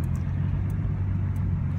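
A car heard from inside while driving, giving a steady, loud low engine rumble with constant road drone and no voices.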